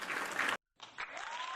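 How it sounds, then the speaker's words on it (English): Canned applause sound effect played from a soundboard, a short burst of crowd clapping that cuts out abruptly, then resumes after a brief gap. "I had to go find the applause sounder."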